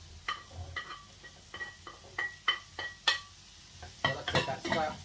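Carrots go into a frying pan for a Maltese rabbit stew and are stirred with soft repeated scrapes and clinks. A low sizzle runs underneath, and the pan sounds close and fairly quiet.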